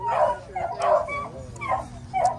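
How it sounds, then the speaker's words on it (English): Excited dog whimpers and yips, with a few short barks in quick bursts, close by over a low steady rumble. "The dogs eager to get out."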